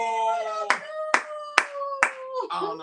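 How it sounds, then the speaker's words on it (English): Four sharp, evenly spaced hand claps ring out close up over a sustained musical tone, followed by a softer final clap. "I felt like clapping."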